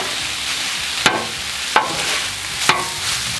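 Habanero and jalapeño peppers sizzling on a Blackstone griddle for a spicy pork belly chili, with a steady hiss and three sharp scraping stirs spaced about a second apart.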